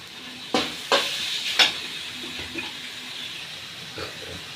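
Washed, chopped carrots go into hot oil for paneer butter masala. A few sharp clatters and splashes come as they hit the pan, then a quieter sizzle with occasional stirring knocks.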